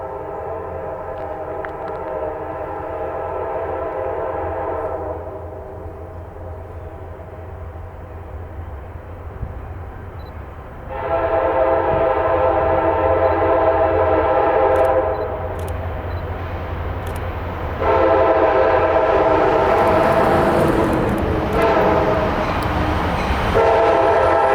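Freight train W019 rumbles past southbound in northern Georgia in winter, its horn blowing in several long blasts over the steady roll of the rail cars.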